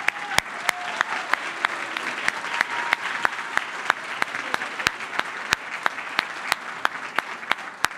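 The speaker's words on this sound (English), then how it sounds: "let's have a big round of applause for our host" Audience at a congressional district candidate forum applauds the host, a sustained wash of clapping with a few sharp, close hand claps standing out rhythmically above it.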